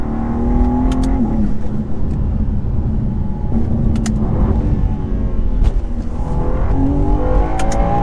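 A new BMW M2 accelerates flat out through a corner, its engine droning steadily at high revs with a rising pitch sweep and brief gear-shift breaks, heard from inside the car with no talk.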